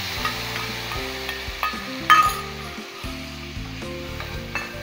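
Spices and chili powder frying in hot oil in a pan, a steady soft sizzle broken by a few stirring scrapes and clinks, close by, with background music playing throughout.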